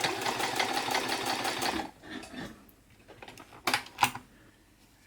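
A Janome Combi two-in-one sewing machine and serger stitches a buttonhole, a dense close mechanical run that stops, followed by a few sharp clicks and short bursts.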